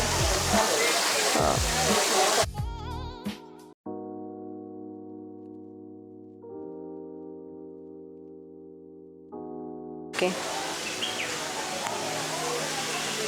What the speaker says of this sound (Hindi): ये गौमुख है, यहाँ से पानी आता है और ये छोटा सा स्प्रिंग है.